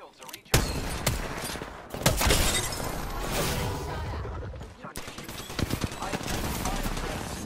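Rapid bursts of video game gunfire, loud and close, firing in long volleys separated by short pauses, with a few sharp louder shots and a player voice in the mix.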